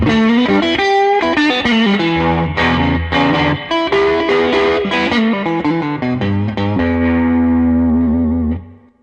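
An electric guitar plays through a Fender amp with overdriven, gritty gain, strummed chords and riffs ringing out loud before fading at the end.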